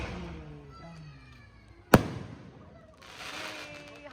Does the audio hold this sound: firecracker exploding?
yes